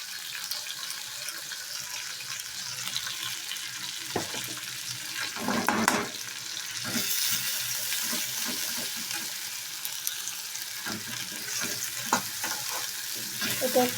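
Ground masala paste fries in a pan for a Bhola fish curry in mustard oil, making a continuous close sizzle with scraping stirs and a louder hissing burst partway through. Nobody speaks.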